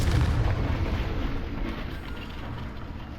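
A Confringo blasting spell explodes in the video game Hogwarts Legacy: a loud, deep booming rumble that is strongest at the start and then slowly fades over a few seconds, with no voices.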